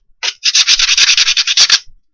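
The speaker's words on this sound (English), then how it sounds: "Take a rough grit sandpaper and you just smooth them all" Rough grit sandpaper rubbed back and forth along the edges of a helmet T-visor piece, a fast, loud, close series of about a dozen raspy strokes with no talking.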